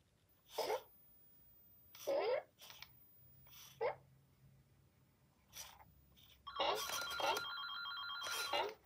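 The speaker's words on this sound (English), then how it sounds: "Phone call." A telephone rings in short electronic bursts near a robot pet, starting with several separate chirps and ending in a longer, busier ring, faint against a quiet room.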